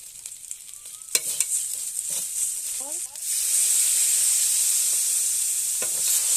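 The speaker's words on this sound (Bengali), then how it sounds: "আদা বাটা ভেজে নেব মশলাটাকে দিয়ে দিচ্ছি তেজপাতা দুটো" Spice paste with ginger and two bay leaves hits a hot pan, starting with clinks and stirring before a loud, bright sizzle swells up and holds steady, close by, with a brief voice early on.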